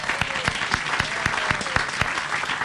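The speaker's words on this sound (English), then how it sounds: "can we give her a round of applause?" A crowd at a War of 1812 monument event gives a round of applause, steady and fairly loud with a few sharp individual claps standing out through the short burst.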